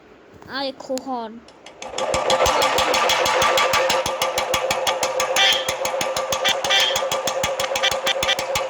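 A Royal Enfield Bullet motorcycle engine thumps along in a steady, rapid beat at close range, after a brief moment of voices at the start.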